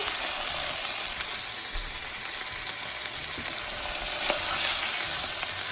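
Food fries in a pan with a loud, continuous hissing sizzle that holds steady throughout, with faint clicks of handling.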